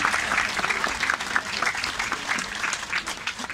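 Audience applause at a concert in Bytom: a dense, steady wash of many hands clapping at once, sustained at an even level throughout with no voices heard.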